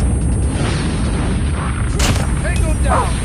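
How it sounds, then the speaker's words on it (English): A video game nuke going off in a multiplayer shooter, a loud rumbling boom with a sharp burst, heavy and continuous under game voice callouts. "Friendly nuke has been launched"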